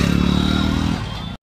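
A motorcycle's engine runs close by with a steady, throbbing idle-like rumble for about a second before cutting off abruptly, with no talking.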